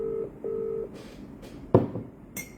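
A phone line gives two long, steady ringback tones at a measured interval, followed by a few clicks and brief electronic beeps as a call goes unanswered.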